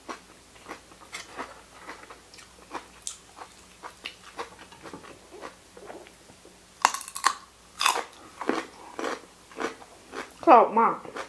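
Crunchy Buriram-style coconut chili dip with crisp accompaniments being bitten and chewed close up, a run of short crisp crunches growing louder in the second half, with quiet background sound between bites.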